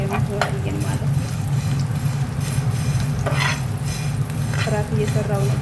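Food sizzles and fries in a pan on a home stove while a utensil stirs it, giving a steady close hiss broken by occasional scraping and clinking strokes, with faint speech in the background.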